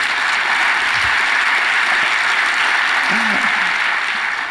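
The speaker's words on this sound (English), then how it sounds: "A little round of applause for this guy." A conference audience at the Inc. 5000 event claps in a steady, dense round of applause that fills the room evenly from start to finish, loud and sustained.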